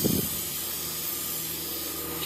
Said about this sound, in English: And we're going to spray it really heavily.